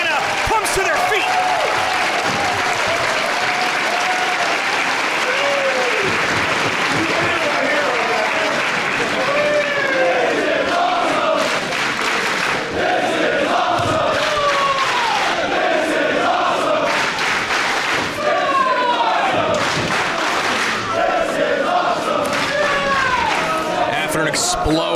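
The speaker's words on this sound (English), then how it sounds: "And the crowd here in Atlanta comes to their feet." A wrestling crowd in Atlanta cheers, yells and applauds loudly and steadily throughout, with an excited commentator talking over the roar.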